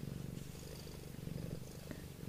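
A cat purrs steadily and close by, a soft rhythmic rumble running alone through the short stretch.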